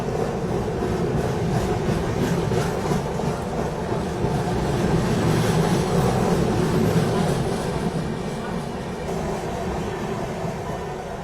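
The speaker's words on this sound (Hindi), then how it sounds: "तो यहाँ पे सत्याग्रह एक्सप्रेस ओवरटेक करके जा रही है हमको।" The Satyagraha Express overtakes alongside, a loud continuous rumble of rolling wheels and carriages with a faint rhythmic clatter, steady throughout and easing slightly near the end.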